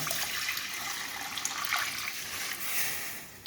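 Water poured off soaking lentils while cooking dal, a steady splashing trickle with a brief louder gush near the end, close by and without talk.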